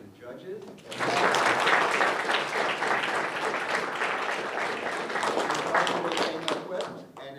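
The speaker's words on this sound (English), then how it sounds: "how about a round of applause for the judges?" At a student congress presentation event, the audience breaks into a burst of applause for the judges, starting suddenly and holding as sustained, crowded clapping for several seconds before tapering.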